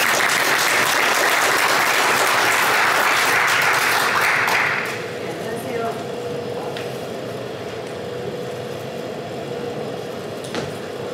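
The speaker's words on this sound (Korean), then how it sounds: "큰 박수 부탁드립니다." An audience applauds at an anniversary forum ceremony, a loud full burst of clapping for about five seconds that drops away abruptly, leaving quieter room noise and a few scattered claps.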